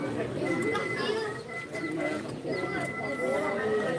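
Pigeons coo softly and repeatedly in the background while several people talk nearby over a steady outdoor murmur.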